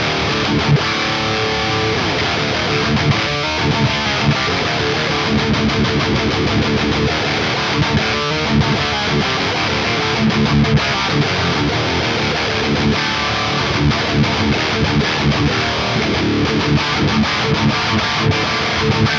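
Electric guitar played through a Tonex Stealth EL34 EVH amp capture with cabinet 22, a dense, driven, bright and beefy distorted tone strummed continuously and loudly for the whole stretch, with no talking.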